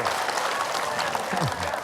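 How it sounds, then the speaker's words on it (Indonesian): An audience at an Islamic study gathering claps together in a continuous, fairly even round of applause, with some voices mixed in. "Ya, sudah alhamdulillah tepuk tangan."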